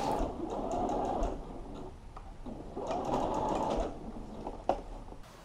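A sewing machine fitted with a normal zipper foot stitches in a zipper on a cocktail dress, two rapid whirring bursts with a pause between, close and clear, ending with a small clunk.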